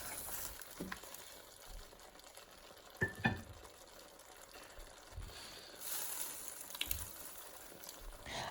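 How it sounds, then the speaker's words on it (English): Spices and vegetables for a lamb saag being scraped off the bottom of a hot pan with water, giving a low sizzle with soft scraping strokes and a few sharper knocks of the utensil, with no voices. "Scrape the bottom of that pan."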